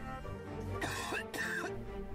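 A person coughs in two quick bursts, close and fairly soft, with a low steady hum running underneath.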